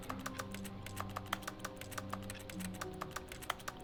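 Mouth-made imitation of typing on a computer keyboard, with quick irregular clicks tapping close up for several seconds over faint background music.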